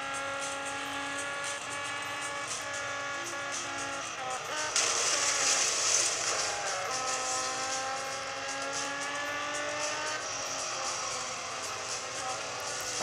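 A race car in the Real Racing 3 video game drives with a steady engine roar, rising briefly in pitch as it revs and brakes, continuous and loud throughout.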